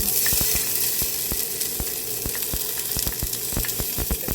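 Onion hitting a hot pan for mixed vegetables in oyster sauce, a loud continuous sizzle with a rapid series of sharp clicks and taps from stirring, close and alone.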